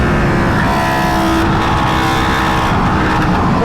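Aprilia RSV4 motorcycle engine held at full throttle, a loud, sustained roar with a steady high-pitched tone and rough broadband rumble running the whole time, close and continuous with no pauses.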